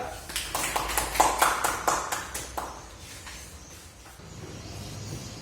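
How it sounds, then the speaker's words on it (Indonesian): Students applaud two classmates in a school classroom during a practice lesson: several quick, fairly faint claps in the first few seconds, then a quieter stretch of room noise with a faint voice near the end. "Kita kasih tepuk tangan untuk Dinda dan Raya."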